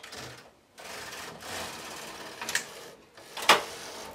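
A domestic knitting machine carriage is pushed across the needle bed with partial knitting set, giving a close series of rolling, whirring passes with short gaps and two sharper clacks near the end.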